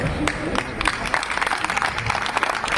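Audience applause at a Hindi devotional discourse on cow service, a dense steady patter of many hands clapping throughout with a murmur of crowd noise.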